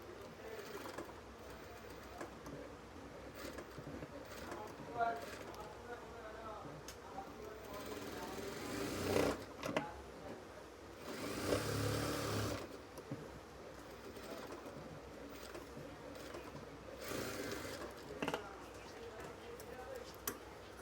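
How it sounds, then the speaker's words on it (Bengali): Sewing machine stitching the band collar of a kameez: a soft, rapid mechanical whir that rises in a few short runs, with a voice talking over it throughout. "এই পাশে ব্যানের সাইড দিয়ে আমরা সেলাই করে নেব।"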